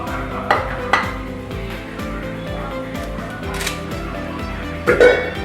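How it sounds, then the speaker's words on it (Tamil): Fenugreek and cumin seeds going into hot oil while cooking Tamil nethili meen kulambu, an anchovy fish curry, with a soft sizzle under clinking pot and spoon sounds and a few sharp metallic knocks. "எண்ணெய் சூடான உடனே வெந்தயமும் சீரகமும் போட்டு"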